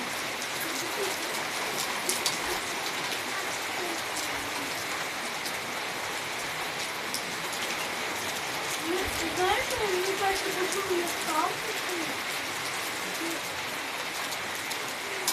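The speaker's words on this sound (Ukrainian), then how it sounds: "сипнув град, падає невеликий, але і не рясний, але сипле" Rain mixed with small hail pours steadily outdoors as a dense, even hiss with scattered patter, while a voice speaks faintly partway through.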